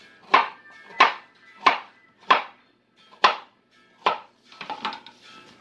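A knife chopping a small piece of ginger on a board, six crisp evenly spaced thuds about one per second, close and distinct, followed by a brief quicker scrape of cuts.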